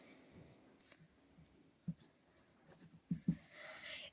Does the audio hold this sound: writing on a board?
yes